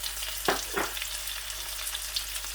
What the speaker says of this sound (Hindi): थोड़ा सा अदरक और शिमला मिर्च जो है वो ऐड कर देंगे बीच में